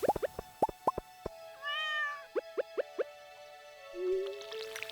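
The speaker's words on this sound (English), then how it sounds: "There you go, little kitty cat" Cat meowing in the Stardew Valley farming game, a clear drawn-out meow set among a string of quick plopping clicks and soft game tones, close and with no talk.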